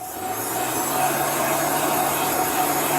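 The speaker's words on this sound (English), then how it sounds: "So you want to continuously move your heat gun so that you don't bubble up your chalk paste." A steady, close blowing roar of a heat gun pushing hot air over chalk paste, constant and unbroken with a faint high whine.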